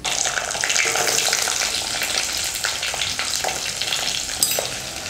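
Onions fry loudly in hot oil with popping mustard seeds for a dry fish curry, a close, dense hiss with scattered crackles and a brief metallic scrape near the end.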